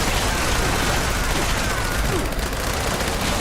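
A Gauss minigun in the video game Fallout 76 fires a dense, continuous barrage, loud and close, with rapid overlapping shots and no pause across the whole stretch.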